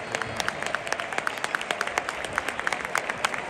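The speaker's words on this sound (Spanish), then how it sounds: "Zorrilla ha ovacionado al exjugador del Real Valladolid" A football stadium crowd applauds steadily as an injured former Real Valladolid player goes down, a dense wash of distant clapping with sharper individual claps on top.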